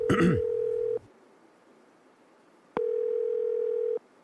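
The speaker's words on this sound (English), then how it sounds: "I'm going to call him on the phone." A telephone dial tone sounds while a phone call is being placed: a steady electronic tone that holds for about a second, stops, then returns for another second after a pause. Another brief sound overlaps the first tone.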